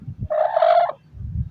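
A backyard hen, held during a home treatment for poultry disease, lets out a single loud, nasal, sustained squawking cluck lasting about half a second, close up, with faint handling noise before and after.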